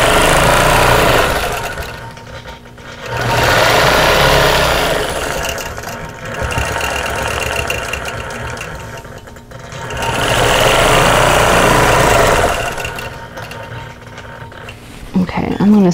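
A sewing machine stitches in the ditch along a quilt seam, running in long steady bursts with short pauses between passes, loud and close throughout.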